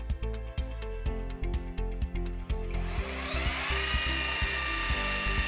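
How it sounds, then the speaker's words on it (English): A Greenworks 24V battery belt sander starts with a series of clicking ticks, then its motor whirs up to a steady, rising hum at close range with no voices. "To turn the sander on, insert the battery,"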